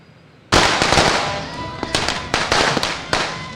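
Loud firecrackers burst in a dense, crackling barrage ahead of New Year, with rapid overlapping pops and sharper individual bangs that go on for about three seconds after a sudden start.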